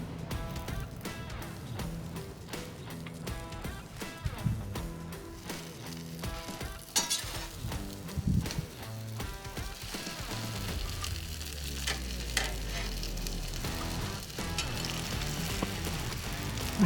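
Garlic butter sizzles and crackles on a hot griddle while being stirred, a continuous busy frying hiss with scraping and clinks, low rumbling and shifting textures across the whole stretch.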